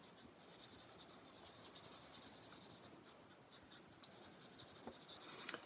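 Graphite pencil scratching across paper while sketching a simple tree, adding texture strokes for grass at the base; steady soft scraping strokes throughout, close and quiet, with no talking.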